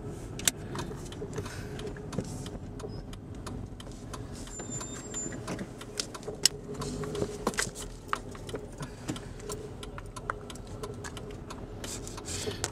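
A car pulling out of a car park, with a low, steady engine and road rumble and scattered faint clicks and knocks, fairly quiet throughout.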